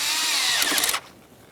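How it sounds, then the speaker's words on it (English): An 8mm-headed intake hose clamp on the throttle body of a 2007-2013 Acura MDX 3.7L V6 is tightened with a power tool, giving a loud, steady high-pitched whir for about a second that stops abruptly, then near quiet. "we'll continue on with tightening our 8mm headed clamp."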